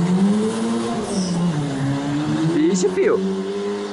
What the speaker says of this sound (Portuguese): Será que ele vai cantar pneu pra brincar um pouquinho?